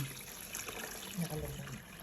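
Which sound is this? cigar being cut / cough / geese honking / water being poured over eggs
water being poured over eggs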